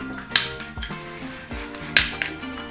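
A spoon scrapes and clinks against a bowl while stirring butter into microwave-melted chocolate, with a couple of sharper metallic taps at intervals, close and moderately loud.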